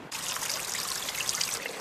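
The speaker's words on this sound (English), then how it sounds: "When it falls down, it collects with a zillion other drops into small streams we call rills." Water trickles steadily into a small stream, a continuous bright splashing babble that is close and fairly loud, with no voices over it.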